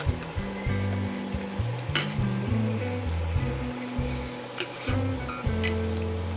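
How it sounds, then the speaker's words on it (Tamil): Rava vadai, about six at once, fry steadily in oil in a large kadai, giving a continuous bubbling sizzle broken by a few sharp clinks of a utensil. "நான் கடாய் பெருசாக இருக்கிறதுனால ஒரு ஆறு வடை வரைக்கும் நான் வந்து ஒரே இதில் போட்டுட்டேன்"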